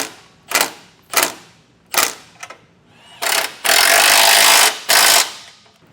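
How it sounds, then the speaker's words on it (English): Tightening bolts on a Blue Ox base plate for a 2024 Chevrolet Silverado: a series of sharp, close ratcheting and clicking bursts in irregular rhythm, ending in longer, louder, continuous runs of harsh mechanical rattling. "And you'll need a wrench on the bolts."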